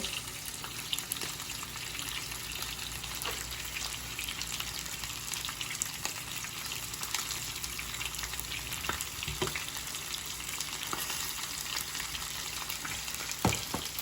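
Breaded catfish coated in panko and breadcrumbs fries in hot oil with a steady, dense crackling sizzle that runs unbroken throughout, close and moderately loud, with a few sharper pops near the end.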